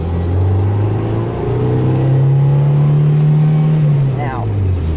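A car engine drones and revs steadily in traffic while the driver works a stiff, tightly adjusted clutch cable, a continuous close engine hum with a brief shift of pitch near the end.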